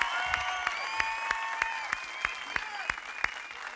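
A concert audience applauds a performance of rhythm and daf frame drum music, steady crowd clapping throughout with a few louder sharp claps standing out near the front.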